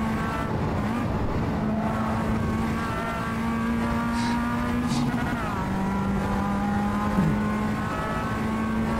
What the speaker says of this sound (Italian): sto scannando le marce io. Fino al limitatore, proprio a morire